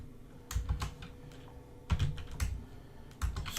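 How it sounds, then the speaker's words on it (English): Soft typing on a computer keyboard while entering code: short clusters of light key taps with pauses between them, close but quiet, no voices. "let me just type it as a commented text"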